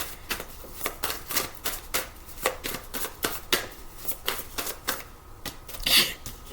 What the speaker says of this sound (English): I want to pull the cards first.